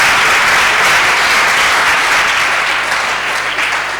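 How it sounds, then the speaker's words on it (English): Crowd applauding at a school renewable energy competition, a loud, dense, sustained wash of clapping from many hands that tapers slightly at the end. "we should all give ourselves a round of applause"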